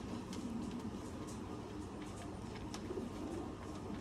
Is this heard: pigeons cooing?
yes